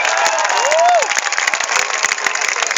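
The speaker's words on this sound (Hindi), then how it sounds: "जरा पत्नी भक्त के सम्मान में एक बार जोरदार ताली बजाते हैं।" Audience at an engineering college poetry recital (kavi sammelan) applauding loudly in a steady wash of clapping and crowd noise, with a brief rising whistle-like tone near the start.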